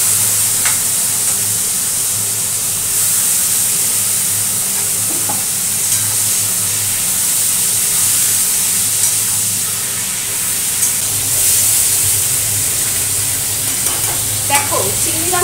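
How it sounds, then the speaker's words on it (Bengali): Shrimp lightly fried in a pan, a loud continuous sizzle and hiss with occasional stirring scrapes, steady throughout. "চিংড়ি মাছগুলো আমি একটু হালকা টচ করে নেব"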